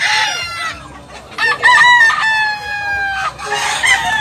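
A Claret fighting cock, a bullstag, crows loudly and close by in one long drawn-out call with a harmonic, wavering tone, followed by further crowing bursts near the end.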